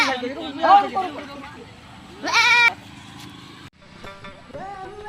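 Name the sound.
goat bleating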